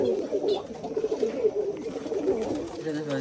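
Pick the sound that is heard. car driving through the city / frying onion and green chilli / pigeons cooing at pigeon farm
pigeons cooing at pigeon farm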